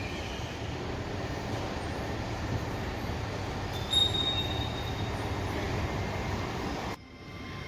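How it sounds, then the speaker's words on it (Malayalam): A train rumbles steadily at a UK railway station with a continuous low roar, a brief high metallic squeal near the middle, then the noise drops suddenly near the end. "അതിൽ 5:41 ലണ്ടൻ പാഡിങ്ടൺ, അതാണ് നമ്മുടെ ട്രെയിൻ"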